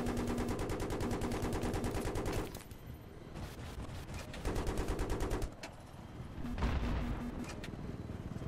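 Rapid bursts of automatic gunfire in Battlefield 3 rattle in several volleys, separated by short lulls, with heavy booming blasts mixed in.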